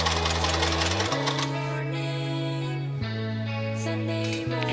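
A sewing machine runs a long gather stitch through a layered tulle flower-girl skirt, its fast steady needle rattle loud and close with shifts in speed, with no talking.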